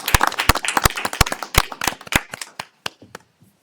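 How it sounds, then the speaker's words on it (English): A small group claps at a town council meeting, a few close, sharp individual claps over scattered softer ones, tapering off into isolated claps and quiet within a few seconds. "I said we give her a round of applause."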